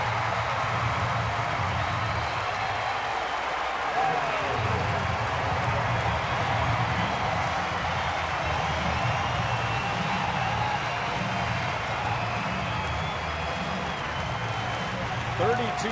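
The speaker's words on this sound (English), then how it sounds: "cheering on a sweep" A baseball stadium crowd at a Royals home game against Seattle cheers steadily with scattered clapping through the ninth inning, a broad continuous roar that carries under the steady voice of a broadcaster.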